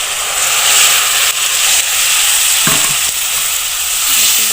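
Tomato paste hits a pan of frying chicken curry, setting off a loud, continuous close sizzle with a brief clatter of stirring in the middle.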